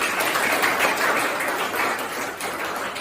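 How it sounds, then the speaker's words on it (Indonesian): Classroom applause from a group of schoolchildren, a steady dense patter of many hands clapping close by and fairly loud, sustained without a break and with no talking over it. "Tepuk tangan untuk kita semua"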